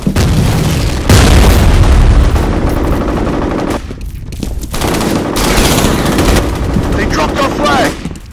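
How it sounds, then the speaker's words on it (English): F.E.A.R. Combat multiplayer capture-the-flag match: a loud grenade blast and sustained bursts of gunfire fill the scene, with clattering booms and brief pauses, while game announcer voices call out over the action. "Grenade out!"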